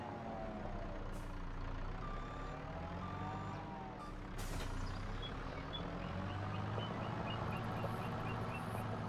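A heavy truck in Farming Simulator 25 hauls a secured load on the road toward town, its engine droning low and steady throughout while a few faint high beeps and a brief hiss sound over it.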